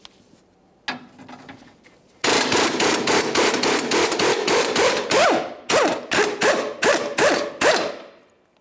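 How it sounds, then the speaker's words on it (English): An impact wrench rattles a 19mm bolt out of the rear knuckle of a 2007-2013 Acura MDX 3.7L V6, with a long loud hammering burst, then shorter bursts, close up. "We're going to remove this bolt."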